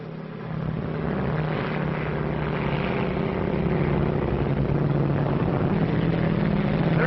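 A propeller airplane cruising at about 15,000 feet in a 1937 film, heard as a steady, loud, droning engine roar with a dull, muffled tone that holds evenly throughout.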